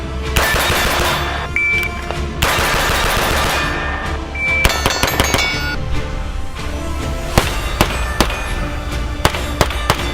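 Rapid bursts of gunfire from a rifle fitted with a Geissele Mark 8 rail, loud and close, with sharp repeated cracks and clangs over a dense, continuous din and no talking.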